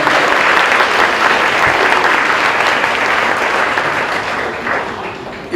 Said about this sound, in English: So give our grade 1s and 2s a round of applause, please.